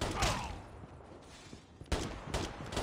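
Sharp gunshots in the mobile shooter game Call of Duty Mobile, a loud burst at the start, then two more close cracks about a second apart.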